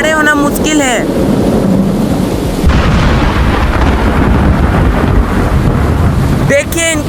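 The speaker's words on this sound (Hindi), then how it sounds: "हवा इतनी तेज है कि खड़े होना मुश्किल है।" Strong storm wind roars as a steady, loud rush during an outdoor circle-endurance game in heavy rain, with brief voices at the very beginning and end.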